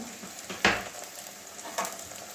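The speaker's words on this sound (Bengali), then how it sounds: "এটাও কাঁচা গন্ধ যাওয়া পর্যন্ত ভেজে নেবো" Ginger garlic paste fries in a pan, a soft, close sizzle with two sharper bursts where a spatula stirs or the paste hits the hot oil; no speech.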